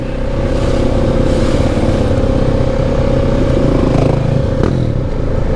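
A Honda Rubicon 520 Deluxe ATV engine drones steadily while riding, a loud continuous motor hum with a fixed low pitch and rattly clatter, close and constant throughout with no talking.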